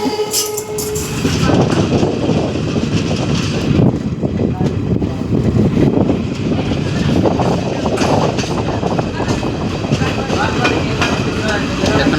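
A local train rumbles past alongside, loud and steady, with rhythmic clacking of wheels on the rails throughout.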